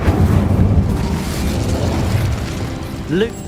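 A fiery Incendio spell bursts in Hogwarts Legacy, a loud whooshing blast over a busy game soundscape, with a voice calling out just before a brief rising magical flare at the end.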